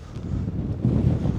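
Steady low wind rumble buffeting a microphone in the Achiltibuie countryside, a constant blustery roar with gusts swelling louder toward the end.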